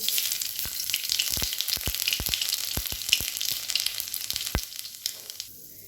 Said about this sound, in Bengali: তেলটা গরম হয়ে গেছে, এবার এর মধ্যে আমি দেব কালো জিরে।